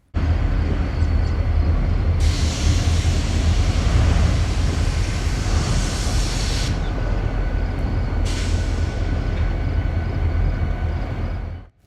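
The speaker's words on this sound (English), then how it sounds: "the light power set with the KCS unit came out of nowhere and stopped beside it." KCS locomotives of a light power set moving through CPKC's Bensenville rail yard, a loud steady low diesel rumble with long hissing air brake releases, close by and continuous.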